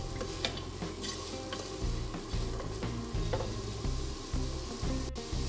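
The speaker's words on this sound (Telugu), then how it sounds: "ఇప్పుడు ఇందులో క్యారెట్ క్యూబ్స్ కూడా వేసుకొని కలుపుకుంటున్నాను" Carrot cubes sizzle and fry in a pan for chicken fried rice, with steady crackling throughout and repeated scraping strokes of stirring, close and fairly loud, no talk.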